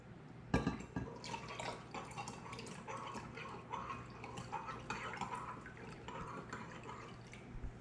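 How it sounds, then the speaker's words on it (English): Steady splashing and trickling of cold filtered water being poured into a jar, continuous and close, with a louder splash near the start. "we're going to add our cold filtered water"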